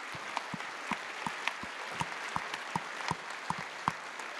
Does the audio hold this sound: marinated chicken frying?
no